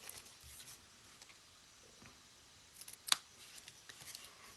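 Scissors snip through paper while a small square is cut out, mostly quiet handling with a sharp, brief cut near the end, no voices.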